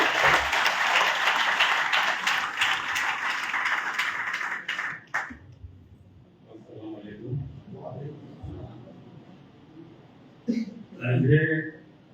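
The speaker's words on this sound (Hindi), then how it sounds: "तालियों से स्वागत।" Audience applause at a skills convocation ceremony for ITI trainees, a dense, sustained burst of clapping for about five seconds that then falls away into a quieter room with a few scattered voices.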